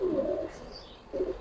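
Giribaz pigeons coo nearby in two soft, low bursts separated by a short pause, with no other sound around them.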